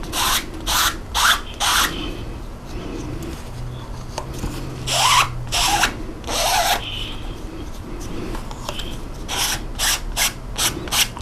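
Paint is pulled repeatedly across a fabric silk screen mesh with a squeegee, giving a series of rasping, rubbing strokes in quick rhythmic bursts, close and moderately loud with no talk.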